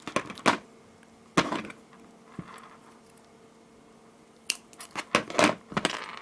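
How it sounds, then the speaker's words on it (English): Scissors snip the end of a plastic bracelet cord in a handmade jewelry session, a few sharp close cuts scattered across quiet gaps. "I will cut the end of the cord"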